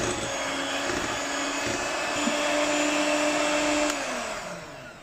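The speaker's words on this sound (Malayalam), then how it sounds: "ഒരു ടേബിൾ സ്പൂണോളം പാലൊഴിച്ച് ഇതൊന്ന് ബീറ്റ് ചെയ്ത് നോക്കാം" Electric mixer whirring steadily as it beats cake frosting with a spoonful of milk added, a continuous motor drone with a slight pitch shift midway and tapering toward the end, no voices.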